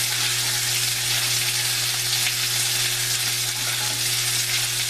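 Lamb lollipop chops searing in a hot pan give a loud, steady, dense sizzle that runs unbroken from start to finish, with a faint constant hum beneath and no voices.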